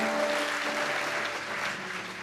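A congregation at a church sermon claps steadily for about two seconds, a dense wash of hands that softens slightly toward the end, with no talking over it.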